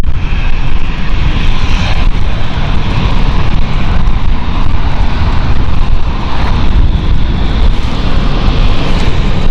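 A KLM jet airliner taxiing at London City Airport in nasty weather: a loud, steady engine roar with broad rushing noise holds throughout, close and unbroken, with no talk.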